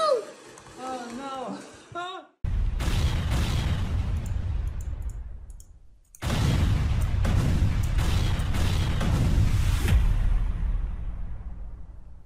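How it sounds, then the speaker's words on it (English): Explosion sound effects in a homemade video game, several loud booming bursts in two long sustained stretches after a short opening of voice-like sounds, with brief gaps between. "many explosions!"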